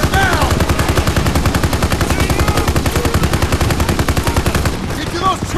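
Rapid, relentless machine-gun fire in a World War II Call of Duty mission on the Rhine, loud and close with a steady rattling rhythm that eases briefly near the end.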